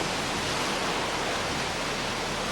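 Tsunami seawater pours over a sea wall in Japan onto a main road after a magnitude 9.0 earthquake, a steady, dense roar of rushing water that holds at an even loudness throughout, with no voices.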